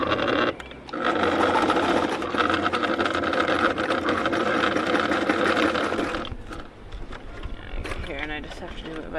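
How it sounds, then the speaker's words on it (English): Sewing machine stitching the edge of a boat sail aboard a boat, a loud sustained rapid mechanical chatter for several seconds that then slows and stops, with some talking around it. "Just haven't been able to get the machine to go through the edge, the leech of the sail very well."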